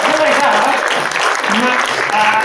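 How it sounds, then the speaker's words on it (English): Steady audience applause at a live science-themed gaming show for a boy and his mum, with voices talking over the clapping. "Round of applause for Egan and his mum."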